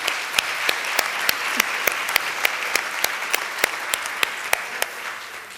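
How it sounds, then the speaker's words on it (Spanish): Audience at a book presentation applauding a prize-winning author seated among them: steady, moderately loud clapping with a few sharp individual claps cutting through at a fairly regular pace. "Un aplauso para Alma, venga."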